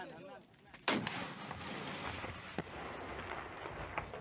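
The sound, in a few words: rocket launcher fired by Kurdish fighters near Raqqa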